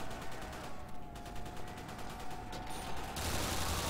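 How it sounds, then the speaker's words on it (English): A turret in Call of Duty: World at War zombies fires a sustained rapid burst, dense repeating shots running continuously with a brief shift in tone before a louder stretch at the end. "I think I activated a turret."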